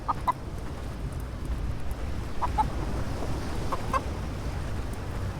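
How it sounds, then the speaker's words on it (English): A chicken in the video game Blade and Sorcery clucks faintly in three brief, widely spaced pairs over a steady low background rumble, with no speech. "So I keep hearing the chicken."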